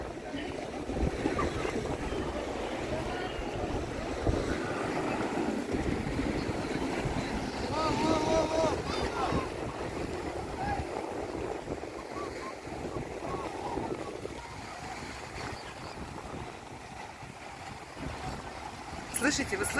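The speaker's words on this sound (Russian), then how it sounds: "Звук каких-то моторных лодок, катеров." Motorboats drone in the distance beneath wind buffeting the microphone and lapping waves at a Black Sea beach in Arkhipo-Osipovka, with occasional voices and shouts mixed in.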